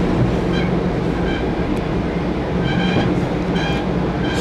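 A loud, steady rumble of wheels and car noise from inside an Amtrak train rolling through the GO Tunnel in Toronto, with faint rhythmic clacks and no talking.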